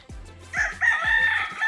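Chickens clucking and a rooster crowing nearby on a farm, a short burst of loud fowl calls with no talking.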